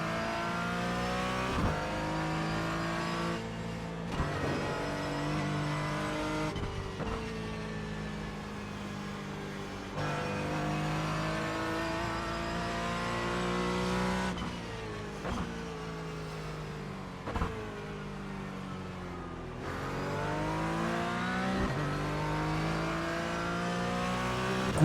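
Race car engines in iRacing, with a McLaren driven on cold tyres, rev and shift continuously, with rising gear pulls and brief lifts between them, loud and alone throughout.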